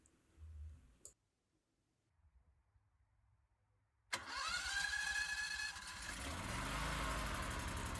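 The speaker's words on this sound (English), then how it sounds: "Now you're ready to start your generator." A portable home generator clicks, goes quiet, then cranks and catches, its engine rising to a loud, steady running drone that carries on to the end.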